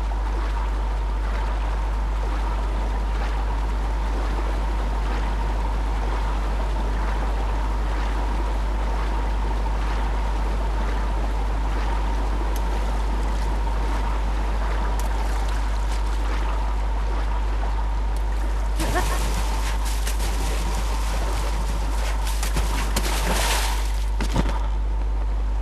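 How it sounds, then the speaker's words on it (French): A rushing waterfall in the game Zelda Breath of the Wild, a continuous loud wash of falling water heard alone, with a few splashy bursts near the end. "La voilà la cascade."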